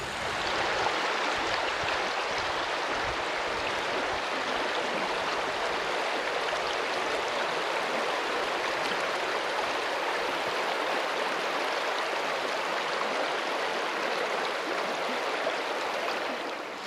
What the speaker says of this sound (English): Take a peek at the river.